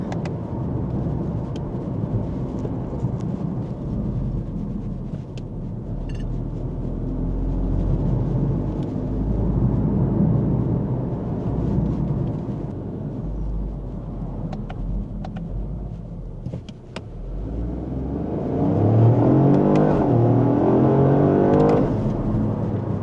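A Lexus LBX Morizo RR hot hatch with GR Yaris power accelerating hard from inside the cabin, a loud sustained engine drone that builds to a rising rev sweep near the end.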